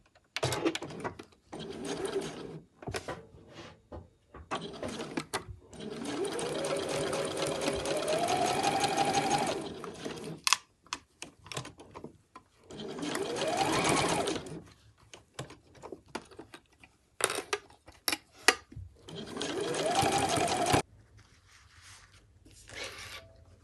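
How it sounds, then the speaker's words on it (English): Sewing machine stitching binding onto a mesh wash bag with a 1.5 cm seam allowance, running in several bursts of steady whirring separated by short pauses and handling noises. "we're going to sew that down"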